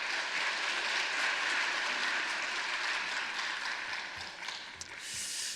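A congregation applauds the pastor at a New Year special dawn worship service in church, a steady broadband wash of clapping sustained throughout, fairly loud and continuous with no talk over it.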